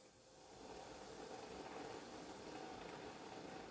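Buñuelos fry in hot oil, a faint continuous bubbling sizzle and hiss that swells after a quiet start and then holds steady, with no talk.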